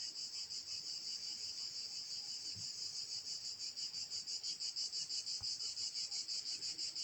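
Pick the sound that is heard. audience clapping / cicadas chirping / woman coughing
cicadas chirping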